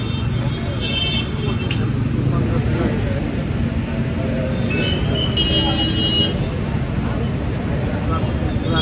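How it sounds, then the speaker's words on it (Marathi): A jammed road in Kagal rumbles with idling and creeping vehicles, several short horn toots and beeps popping out over the steady traffic din, with voices murmuring in the mix. "ट्रॅफिक भरपूर जाम झालेला आहे."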